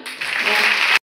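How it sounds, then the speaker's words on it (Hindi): A short, loud burst of applause from a college audience at an NCC wing programme, dense clapping that cuts off abruptly. "तो एक बार जोरदार तालियां"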